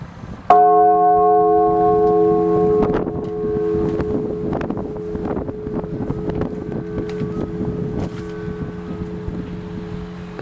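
A single 14th-century church bell at the Sanctuary of the Madonna del Pianto in Foligno is struck once and rings out with a long, shimmering hum that slowly fades, with faint knocks and rustles around it.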